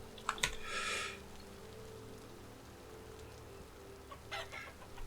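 Chickens in the Vintage Story game cluck in short bursts near and far, over a steady patter of rain with a few sharp clicks.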